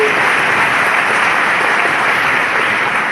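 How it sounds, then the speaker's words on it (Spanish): Loud, dense applause from a large event crowd, a steady roar of clapping sustained evenly with no voices standing out. "Vamos a darle un aplauso a los"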